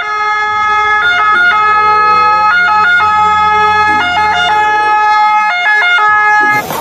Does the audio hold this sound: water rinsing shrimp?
no